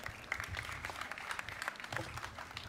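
An audience claps steadily throughout, a soft, dense patter of many hands at an evening plenary session of the International Startup Festival, heard from a distance and fairly faint.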